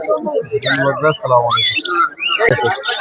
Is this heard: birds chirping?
yes